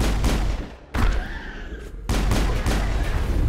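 Gunfire in Mass Effect during a fight with geth: dense bursts of loud shots that break off briefly and then resume in rapid succession.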